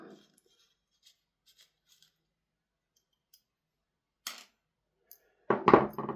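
A screw is backed out of a VFC Walther PDP gas blowback airsoft pistol, making a few faint, sparse clicks and small metallic ticks, then a louder scraping rattle of parts close by at the end.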